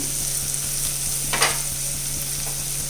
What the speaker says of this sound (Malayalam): ഇത് നല്ലോണം ഇളക്കി മിക്സ് ചെയ്ത് കൊടുക്കാം